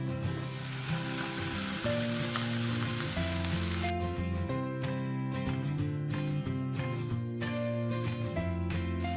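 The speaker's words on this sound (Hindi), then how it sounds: "कॉर्न को हम फ्राई करेंगे।" Boiled corn kernels fry in melted butter in a hot pan, a steady close sizzle that jumps to a louder, hissier crackle partway through, with light stirring scrapes over background music and no talking.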